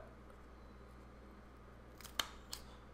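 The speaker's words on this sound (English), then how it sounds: "I just make it easy and cut out 2 little triangles" Scissors snip small triangles out of kinesio tape, giving a couple of brief, crisp cuts near the end against a quiet room.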